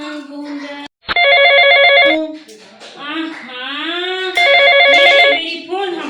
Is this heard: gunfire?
no